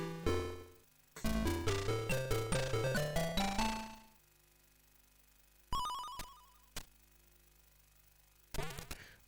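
Chiming electronic bumper hits and bell-like tones from the computer pinball game Advanced Pinball Simulator, a fast rapid run of bright beeps followed by a few isolated jingles and sharp clicks with silent gaps between them.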